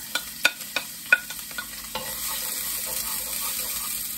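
Garlic sautés in a pan with a soft sizzle, broken early on by several sharp scraping and clinking stirs before settling into a steady frying hiss.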